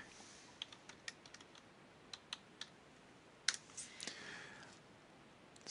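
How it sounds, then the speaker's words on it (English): Computer mouse clicks in a quiet room, a scattered series of sharp, faint ticks with a few quick double-click pairs, close to the microphone and without speech. "Again, double click."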